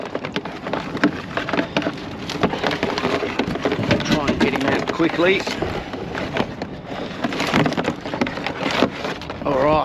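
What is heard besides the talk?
rain falling on a mangrove creek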